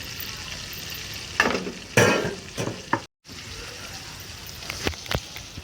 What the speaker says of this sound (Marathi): थोडं थोडं आपण याला तळून घेऊ.